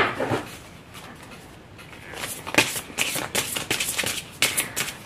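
Tarot cards being shuffled close up, a soft riffling patter of quick card slaps building into repeated crisp bursts, with no talking.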